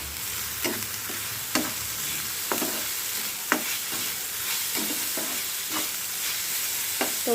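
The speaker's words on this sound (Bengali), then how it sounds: "যেহেতু এটা ফ্রোজেন পেঁয়াজ তো এখন তেল দিয়ে দিচ্ছি" Frozen onions fry in oil in a pan, a soft continuous sizzle broken by regular scraping strokes of a spoon, close and moderately quiet, no speech.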